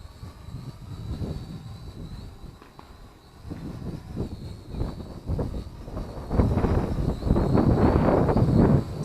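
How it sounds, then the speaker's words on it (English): Strong, gusty wind buffets the microphone during an outdoor test flight of an Eachine E520S 4K drone, with rushing, uneven bursts that grow louder toward the end over a faint, thin motor whine. "even though it's really windy now, but it's really flying smoothly, even though it's fighting the wind"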